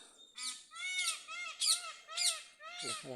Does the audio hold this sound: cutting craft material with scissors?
no